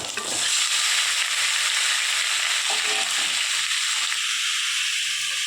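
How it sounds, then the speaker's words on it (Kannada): Chicken, about three-quarters of a kilo, goes into a pan of frying onions with turmeric, setting off a loud steady sizzle with faint stirring scrapes, continuous and close throughout. "ಮುಕ್ಕಾಲು kg ಚಿಕನ್ ಸೇರಿಸ್ತಾ ಇದ್ದೀನಿ."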